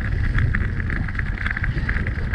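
Steady wind rushing across a microphone on the Main river cycle path between Aschaffenburg and Frankfurt on a cool, overcast day, a continuous close buffeting roar with no talk.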